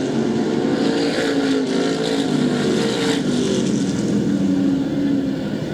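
SK Modified race cars roaring around the Waterford Speedbowl oval, a loud sustained engine drone that swells and holds as the cars come out of the corner to the line, with no talk on top.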